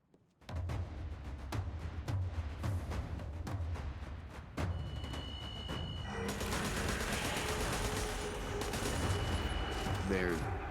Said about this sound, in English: They're shooting their allies?